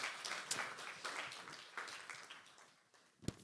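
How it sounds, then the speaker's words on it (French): An audience at a Rennes deeptech conference applauds the seated panel members, a brief wash of clapping from a roomful of people that fades gradually, ending with one sharp louder clap. "On peut les applaudir également."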